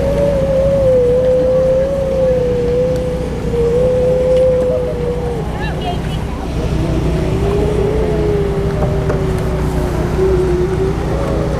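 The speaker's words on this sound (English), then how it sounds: "I guess that's the seals making that noise." Seals call at Cape Cod with long, wavering moaning tones drifting up and down over a loud, constant low rumble of engine or wind noise, continuing for several seconds with brief breaks.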